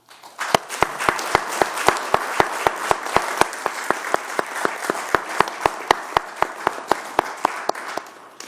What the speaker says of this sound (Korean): 우리 의원님 모두 박수로 격려해 주시기 바랍니다